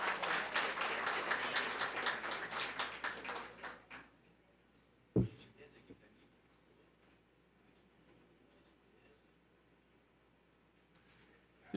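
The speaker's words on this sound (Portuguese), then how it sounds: "Uma salva de palmas." Applause from an audience at a council inauguration ceremony, a few seconds of scattered clapping that fades out, followed by a sharp knock and near silence with faint room noise.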